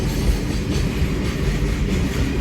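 A long, heavily loaded train rumbles past close by, a steady heavy roar with faint clattering of wheels on the rails.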